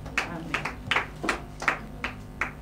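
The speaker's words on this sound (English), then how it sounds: "So we clap for the glory of God in Jesus' name." A congregation at a church service claps in a loose, uneven rhythm, about a dozen distinct bursts at a moderate distance, with no talking.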